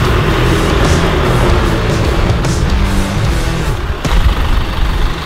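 A truck engine labors loud and close as it climbs a steep backyard driveway hill in four-wheel auto, a continuous heavy drone with a few dull knocks near the end.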